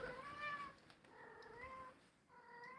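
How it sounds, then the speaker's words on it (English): Kittens meowing in three high, drawn-out calls, faint and near, with short pauses between them. "I already hear squeaking kittens."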